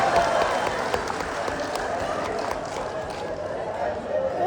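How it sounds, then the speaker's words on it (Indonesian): Crowd applause during a regional organisation meeting speech in Ternate, a broad wash of clapping that holds steady and swells slightly near the end, with some voices mixed in. "Tepuk tangan dulu."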